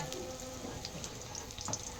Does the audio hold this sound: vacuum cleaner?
no